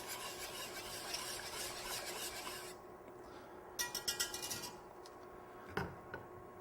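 Chocolate being gently whisked into cream for ice cream, a soft repeated rasping and scraping of the whisk in a bowl, with a few quick clinking taps toward the end.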